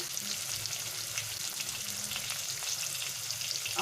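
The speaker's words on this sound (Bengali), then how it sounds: "আমটাকে এবারে আমি এর সঙ্গে ভালো করে ভেজে নেব" Mango pieces frying in a pan for a katla fish curry, a steady soft sizzle and crackle of oil with faint stirring, close and continuous throughout.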